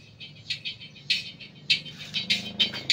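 A high-frequency tweeter on a Deuahub 234XL crossover plays only the treble band in a sound test, giving thin, bright pulsing chirps and clinks in quick uneven bursts, close and with no talking.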